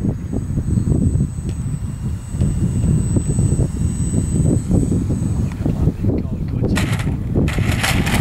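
Parkzone Albatross radio-controlled model plane over Bardsea Beach, a steady droning engine hum heavily mixed with wind buffeting as it comes in to land, with people talking nearby.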